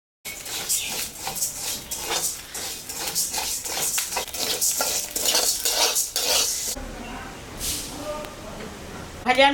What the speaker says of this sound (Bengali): এখন আমি একটু চাল ভাজে নেব।